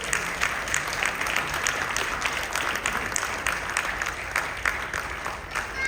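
Audience at a Kannada community children's skit event in Singapore claps steadily in dense, continuous applause that holds at an even level throughout, with faint voices mixed into the crowd.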